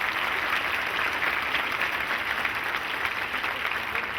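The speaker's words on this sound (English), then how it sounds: "How about a nice round of applause?" Steady, dense applause from a concert audience at a fall school concert, many hands clapping continuously at an even loudness for the whole stretch, without voices.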